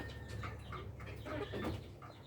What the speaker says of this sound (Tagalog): Yan yung mga dumalaga natin na Rhode Island.